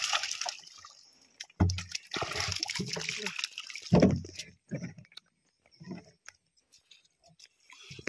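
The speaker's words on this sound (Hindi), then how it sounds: "देखो फिर से डाला अभी ठंडा पानी होता" Cold water being poured and splashing, with a few bursts of sloshing and spattering that fade into smaller scattered splashes, while voices speak in between.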